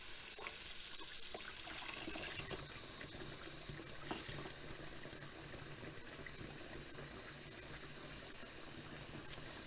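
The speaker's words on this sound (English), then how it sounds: "I think I need a little bit more water in the sink." Tap water running steadily into a sink, a soft continuous hiss and splash heard close and fairly quiet throughout, with no voices.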